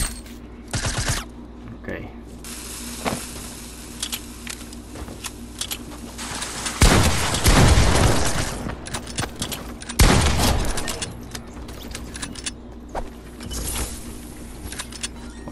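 Bursts of gunfire from a Fortnite match, with scattered shots and two louder, denser volleys in the middle, heard under a steady game background.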